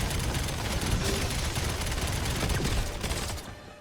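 Rapid gunfire in a Call of Duty video game, dense overlapping bursts of shots in a loud continuous fusillade that cuts off abruptly near the end.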